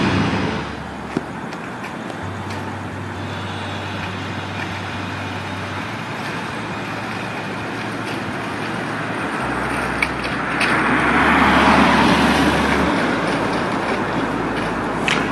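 Steady car traffic on Mateo Street in the Arts District, a continuous roadway rumble with a low engine drone and a passing vehicle swelling louder near the end.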